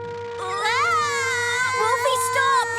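A cartoon character gives a loud, high, wavering dolphin-call imitation, a voice mimicking dolphin squeals that rises and falls continuously for a few seconds, close and strained like a whining cry.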